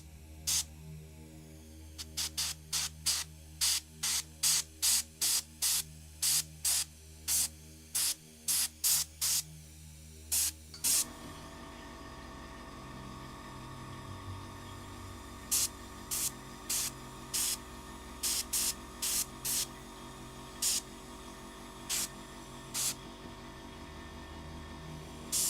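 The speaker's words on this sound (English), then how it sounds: "I'll just turn up the pressure on the airbrush a bit." An airbrush sprays paint spatter at raised pressure in short, sharp hissing bursts, about two dozen of them, fast at first and then more spaced out, over a low steady hum.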